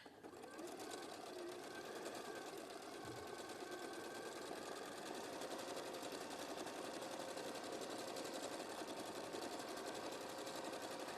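A sewing machine stitches straight seams on fabric, running as a steady, continuous mechanical whir throughout, fairly faint and close.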